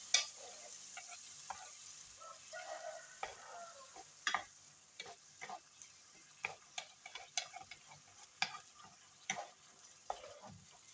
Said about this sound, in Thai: ใส่น้ำทีละนิดก่อนเนาะ แล้วก็คนไปเรื่อยๆค่ะ